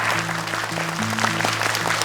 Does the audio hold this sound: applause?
yes